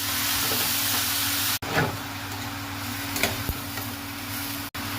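Ash gourd pieces sizzle in a hot pan with popped mustard seeds, a steady close frying hiss with a few scraping stirs and clatters of the spatula.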